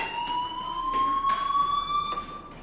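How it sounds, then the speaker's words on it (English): A fire alarm rings in the video game Life Is Strange, a steady high electronic tone with shimmering overtones sounding continuously at moderate volume, alone without talk. "do you hear that fire alarm?"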